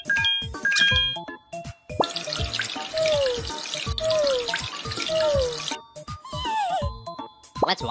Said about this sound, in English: Let's shower him!